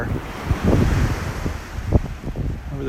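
Ocean waves wash onto a beach in North Naples, Florida, with loud rolling surf and gusts of wind buffeting the microphone, surges rising and falling throughout without any voices.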